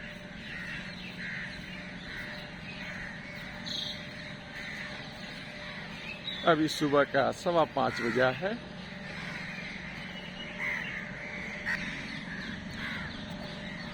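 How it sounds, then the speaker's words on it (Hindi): Crows caw at 5:15 in the early morning beside the flowing Ganges, a burst of several harsh calls in quick succession at mid distance, with someone talking quietly before and after. "कौवे लोग भी भाई सुबह में भ्रमण के लिए आते हैं, बैठे हुए हैं।"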